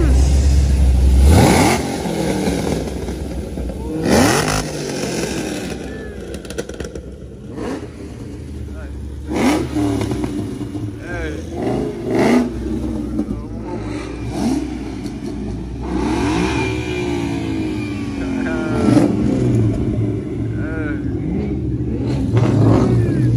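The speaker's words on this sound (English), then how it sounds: "Someone over there revving their shit up" At a Cars and Coffee meet, a car engine revs in repeated bursts nearby, rumbling and clattering, while people talk over it throughout and the revs rise and fall amid crowd noise.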